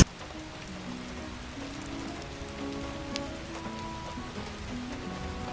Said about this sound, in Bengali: বাইরে পড়ছে হচ্ছে প্রচণ্ড বৃষ্টি